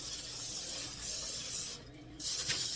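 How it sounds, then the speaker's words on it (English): Cooking oil spray hisses close in short continuous bursts onto parchment paper on a cookie sheet, with a brief pause and a final quick spritz. "So we're spraying our parchment paper with Pam."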